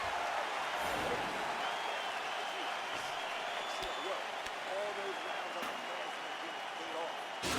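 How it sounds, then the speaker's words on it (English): A virtual arena crowd in EA Sports UFC 4 roars and applauds after a round of the Cannonier versus Brunson bout, a steady, dense wash of cheering that holds throughout. "So the crowd voicing its appreciation after that round."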